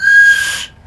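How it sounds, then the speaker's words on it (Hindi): A single sustained whistle blown in a physics class demonstration of open and closed organ pipes, a steady shrill tone lasting just over half a second before cutting off cleanly, loud and close. "हाँ देखो सीटियां बजा दी लोगों ने"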